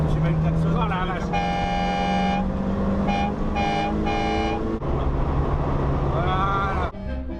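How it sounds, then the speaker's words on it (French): A classic car's horn at a historic car regularity rally honks in several loud blasts, a long one followed by shorter repeated toots, over engine noise and nearby voices. "Tu mets avec klaxon."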